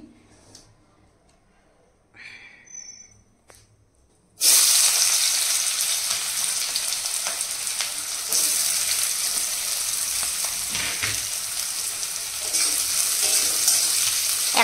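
Onion slices dropped into hot oil previously used for frying okra, ahead of a meat curry, burst into a loud, steady sizzle that continues unbroken after a few quieter kitchen sounds.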